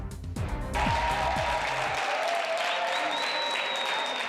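Delegates at a constitutional convention plenary session applaud an approval. A dense, sustained round of clapping from a large room starts abruptly and continues steadily at a moderate distance.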